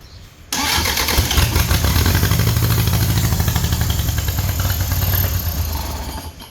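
An old vehicle engine fires up abruptly and runs loud and close, revving on its own with a rough, steady rumble before easing slightly at the end.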